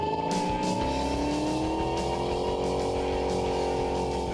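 Restored hot rod car driving on the road with the engine revving and rising in pitch, a loud steady close-up engine drone throughout with no voices.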